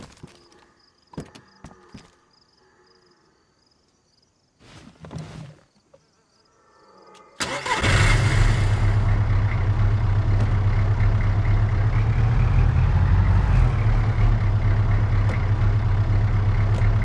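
A car in the video game DayZ starts up after a few scattered clicks and knocks, then a loud steady engine drone runs continuously, rising slightly midway.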